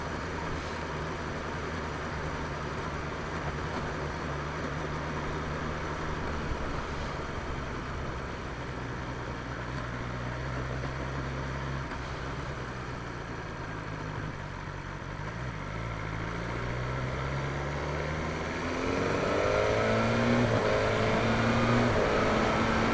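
A BMW S1000R motorcycle rides steadily with a continuous engine drone, its pitch stepping through clutchless gear changes with auto-blipped downshifts near the end, rising louder over wind.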